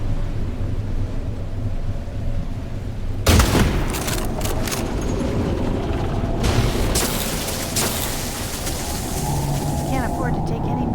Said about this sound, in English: As soon as they see me, they start shooting at me.